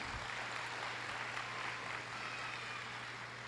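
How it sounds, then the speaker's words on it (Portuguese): Steady applause from a church congregation, a dense even patter of many hands clapping throughout with no voices on top. "Uma salva de palmas"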